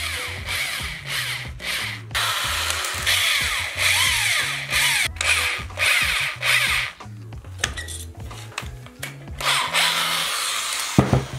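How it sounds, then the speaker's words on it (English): A power drill bores line-tie holes into a handmade fishing lure body, whining in short repeated bursts with pauses between, close and fairly loud, with scraping and handling noises in the gaps. "That is going to be a very sketchy drill out on that piece."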